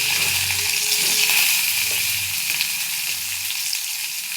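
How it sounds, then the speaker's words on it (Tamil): Mustard seeds and onion fry in hot oil, making a constant loud sizzle with light popping and crackling that continues without pause. "கடுகு பொரியுது. இப்போ வெங்காயம் போட்டுக்கலாம்."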